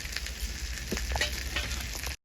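Half-cooked marinated chicken sizzles and fries in a pan while being sautéed, a steady close crackle with a few soft stirring scrapes, ending abruptly in silence.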